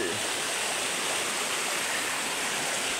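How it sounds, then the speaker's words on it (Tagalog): Steady rushing river water in rural Negros Occidental, a dense continuous broadband wash with no breaks, loud and close throughout with no voices. "Dito kami sa ilog, dito sa probinsya namin sa Negros Occidental."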